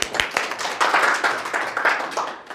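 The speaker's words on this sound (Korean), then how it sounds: "박수로 시작할까요?" Audience applause at the opening of an open lecture, a steady burst of many hands clapping at moderate volume for a couple of seconds, with no talk over it.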